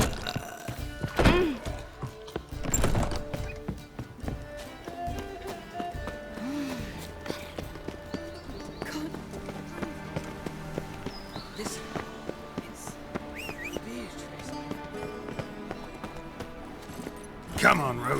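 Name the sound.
horse hooves clip-clopping, Roach, in video game The Witcher 3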